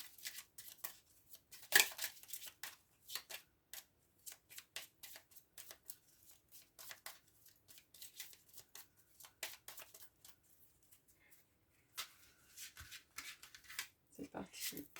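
Tarot cards being shuffled for a nine-card reading, a dense run of quick papery riffles and flicks, fairly close and soft, with a sharper snap near the start and a few pauses.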